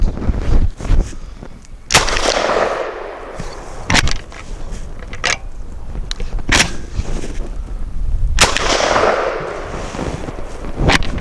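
Citadel RS-S1 shotgun firing from an extended magazine, about five loud booming shots spaced a couple of seconds apart outdoors, each with a short echoing tail, with mechanical clatter between them.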